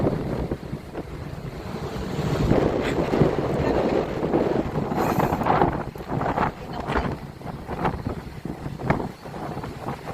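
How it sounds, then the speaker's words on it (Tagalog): Strong wind buffets the microphone in heavy, uneven gusts that roar and surge, rising and falling continuously with no voices. "Sobrang lakas ng hangin. Ililipad ako."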